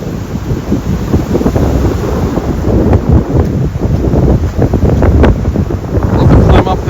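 Strong, gusty wind buffets the microphone on a wet day on the Cornish coast, making a loud, continuous rumble and roar that does not let up.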